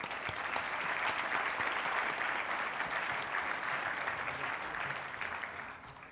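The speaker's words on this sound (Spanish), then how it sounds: "Un aplauso, por favor." A conference audience at a Latin American wellbeing panel applauds steadily, a dense sustained wash of many hands clapping that holds for several seconds and tapers slightly at the end, with no talk over it.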